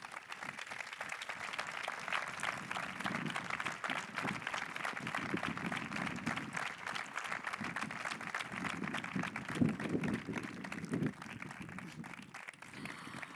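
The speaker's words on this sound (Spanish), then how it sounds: "yo creo que se merecen un aplauso" An audience at a memorial tribute in Tefía gives honoured guests on stage a long round of steady applause, a dense, even patter of many hands that holds for over ten seconds.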